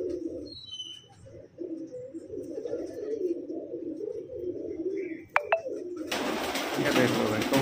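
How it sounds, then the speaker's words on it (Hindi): Steady low cooing of many Punjabi Malwai pigeons fills a room, with soft wing flutters and chirps, then a burst of flapping wings near the end. "ये देख लो भाई कबूतर ही कबूतर है"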